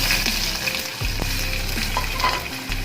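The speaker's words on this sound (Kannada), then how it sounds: "ಬೀನ್ಸ್ ಕ್ಯಾರೆಟ್ ಹಾಕಬೇಕು ಹಾಕಿ ಸ್ವಲ್ಪ ಫ್ರೈ ಮಾಡಬೇಕು ಫ್ರೈ ಆಗ್ತಾಯಿದೆ" Beans and carrots fry in an oily pan for tomato bath with a loud, steady sizzle close up, broken now and then by brief stirring scrapes, with no talking.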